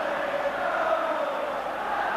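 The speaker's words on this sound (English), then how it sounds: "most of the noise you're hearing now from the crowd is coming from the Rangers end" Steady broad roar of a football crowd at a Rangers v Celtic match in 1988, concentrated at the Rangers end, a continuous distant wash of massed voices with no single voice standing out.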